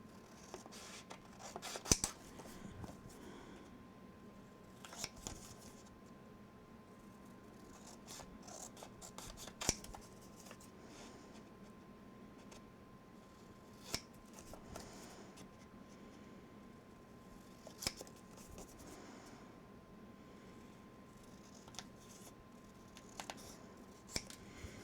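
Scissors cut out paper for a small page insert in a file folder album, making faint, close snips and rustling slides spread irregularly over a quiet background.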